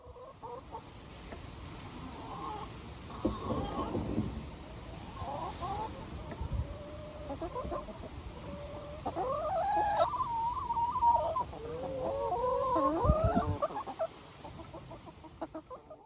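Backyard chickens clucking inside a combined coop and run, soft irregular clucks and a few louder squawks at moderate distance over steady low background rumble.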